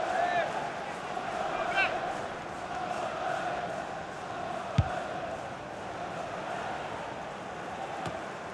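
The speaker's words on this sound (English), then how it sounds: "Well, just listen to the crowd." A football crowd at Molineux Stadium during a Premier League match between Wolverhampton and Southampton produces a steady distant roar of cheering and chanting, with a couple of sharp thuds standing out. A commentator's voice runs beneath it.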